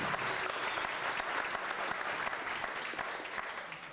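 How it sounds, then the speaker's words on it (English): An audience at the Barrington Area Library gives a round of applause, continuous overlapping clapping heard somewhat distantly and softly, fading slightly toward the end. "a round of applause for the Barrington Area Library"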